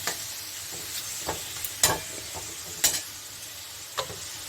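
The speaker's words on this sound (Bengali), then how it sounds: "এই যে পেঁয়াজ ভাজার তেলের মধ্যে আমি এই মাংসটাকে দিয়ে দিয়েছি" Meat sizzles in hot oil that onions were fried in, with steady frying hiss and several sharp scraping clicks of a spoon stirring through the pan, close and fairly loud.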